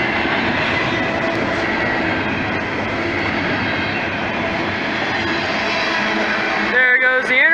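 A BNSF intermodal freight train rolls past nearby with a steady, loud rumble and clatter of wagons, ending with a brief metallic squeal.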